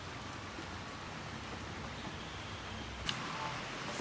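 Steady rain falls in a village setting, a soft, even hiss of drops on surfaces heard continuously at low level, with no voices.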